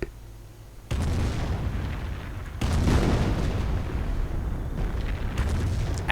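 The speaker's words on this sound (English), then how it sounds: "we can see in the background the Nebelwerfer fires" Rocket artillery from a Nebelwerfer launcher firing in a World War II strategy game, a series of loud booming blasts and rumbling explosions that fill the battlefield din without a break, with no talking over them.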